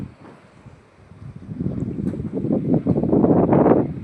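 Gusty wind rushing and buffeting, building from quiet to a loud, rumbling roar over a few seconds.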